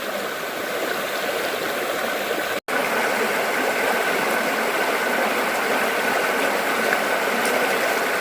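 Small, shallow stream flowing steadily beside a trail on an Appalachian Trail thru-hike, a close continuous broadband wash with a brief dropout partway through.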